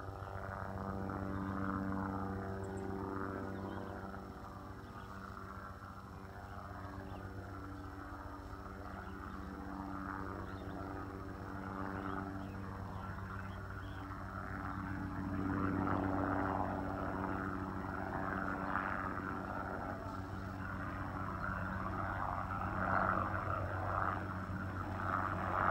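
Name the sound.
helicopter flying overhead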